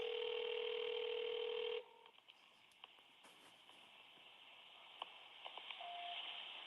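A phone call to Grady EMS in Atlanta opens with a loud steady tone that cuts off, followed by a quiet line with faint clicks and short beeps, without any voices.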